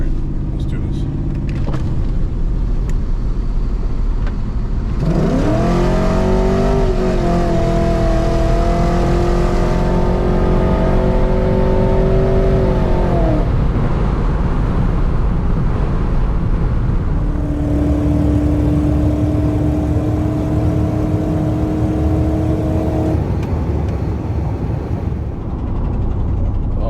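A GMC Sierra 5.3 truck with a cam and longtube headers accelerates hard in a loud, rising pull, drops back, then revs again. The rough exhaust roar sits over a continuous low rumble.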